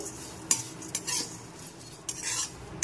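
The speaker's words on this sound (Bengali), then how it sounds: "একেবারে পুরোটা না দিয়ে ভাজতে ভাজতেই অল্প অল্প করে পুরো মিশিয়ে নিতে হবে" Flattened rice (chira) is stirred while it fries in a kadai, with a metal spoon clinking and scraping in several quick strokes over a light, close sizzle.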